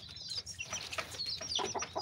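Chickens in a coop cluck and squawk in short, overlapping bursts, close by and moderately loud, with some wing flapping mixed in and no clear talking.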